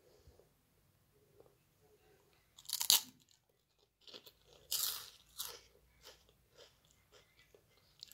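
Crunching of Chipsy Blaze potato chips being bitten and chewed close up: a sharp loud crunch, then a second burst of crunches with softer chewing between, no talking.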